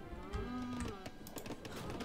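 A cow in Age of Empires 3: The Asian Dynasties lets out a low, drawn-out moo, quiet but clear, followed by faint game clatter.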